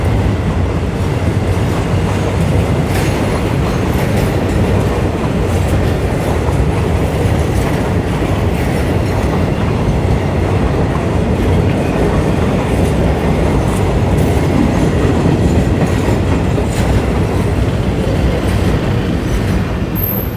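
A freight train hauling container cars rumbles steadily past a railroad crossing, loud and close, with continuous wheel clatter and occasional metallic squeal throughout.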